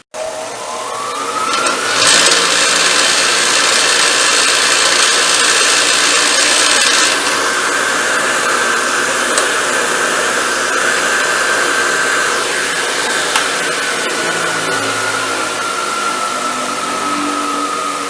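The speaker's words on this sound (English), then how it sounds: "let me start it up for a sec and I'll show you what it sounds like" A Ryobi bench grinder with a 5/8-inch arbor spins up from a start into a loud, steady high whine with an underlying motor hum, running continuously and close without speech.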